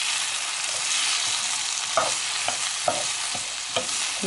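Bell peppers, spring onion and fresh thyme fry in a pan over a steady hissing sizzle, while a utensil scrapes and taps through them in several distinct close stirs.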